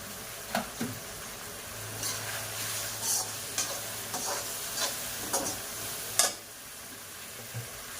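Tomatoes and chopped green chillies fry in a pan, giving a steady low sizzle broken by sharp scrapes and clinks of a spoon stirring every second or so, close and fairly quiet with no talking.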